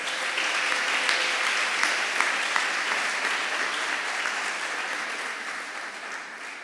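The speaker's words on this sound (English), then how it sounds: "Please clap for them." Sustained audience applause for lecturers at a university music workshop, a dense steady clapping from a large crowd that carries loud throughout and tapers slightly at the end.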